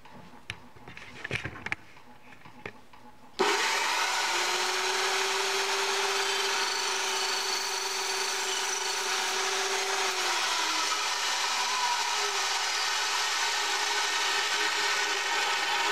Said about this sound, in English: And there's the cut off the saw.